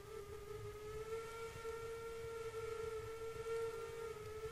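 A steady steam-style train whistle blows in a railroad video game, one long sustained tone with harmonics held for several seconds at moderate loudness, with no talking over it.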